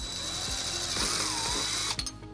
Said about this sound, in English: using a 3/16 drill bit, we're going to drill our first hole